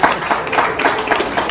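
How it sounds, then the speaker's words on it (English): Guests at an American Nigerian Igbo wedding give a round of applause, a loud, dense burst of clapping throughout, with some voices mixed in. "Round of applause."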